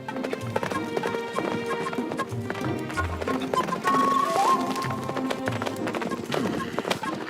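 Horses' hooves clip-clop steadily in a cartoon about hunters and their horses, a rhythmic run of close hoofbeats under a music score with occasional whinny-like tones.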